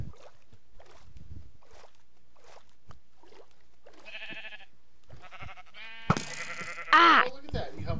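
Blocky sheep in Minecraft let out a few short, bright bleats in the middle of the clip, close and fairly loud, with people talking before and between the calls.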